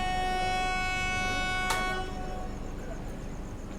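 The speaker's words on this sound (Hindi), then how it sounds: "बस 2 मिनट का हॉल्ट लेने के बाद हमारा यहाँ से प्रस्थान हो चुका है।" The Garib Rath Express, an ICF-coach train, pulls away from a small two-platform station with steady rolling rumble and sustained tonal horn-like hums, a sharp clank near the middle.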